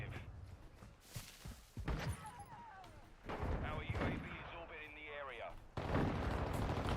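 Sniper rifle shots ring out in Call of Duty Modern Warfare II, with several sharp, loud reports and thumps scattered through a busy stretch of game sound while a person talks over it.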